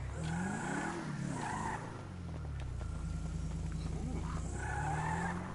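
Car tires skidding and squealing in the GTA 5 video game, loud sweeping screeches with a steady engine drone underneath, repeating in several bursts over a few seconds.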